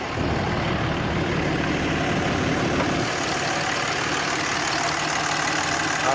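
A stock, unmodified truck engine idles steadily nearby, a continuous low rumble that drops slightly in pitch partway through, with no voices.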